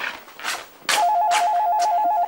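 An old-style telephone rings in a home scene from an Egyptian TV drama: faint rustling first, then a loud, close, warbling electronic ring that starts about a second in and continues steadily.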